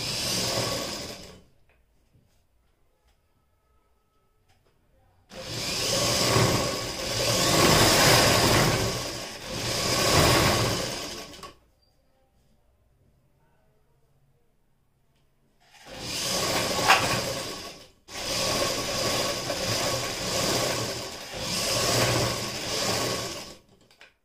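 A sewing machine stitches along the fitting marks on both sides of a kurti in two long runs, each a steady close whirring hum with pauses of near silence between them and no talking.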